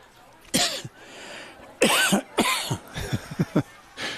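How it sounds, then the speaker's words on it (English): Several sharp coughs in quick bursts, close and fairly loud, with short pauses between them and a few smaller hacking coughs at the end. "you coughed it out. You got it out."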